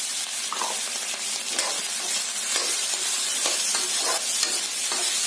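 Carrots added to a pan of mixed vegetables frying for cutlets, a continuous loud sizzle with repeated scraping stirs every second or so, close up and with no talking.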